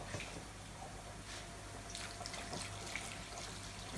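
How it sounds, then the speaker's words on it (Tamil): Faint, steady trickle of water pouring into a cooking pot of tomatoes, with a few soft drips and splashes over quiet background hum. "இது கூட வந்து தண்ணி ஊற்ற போகிறோம்."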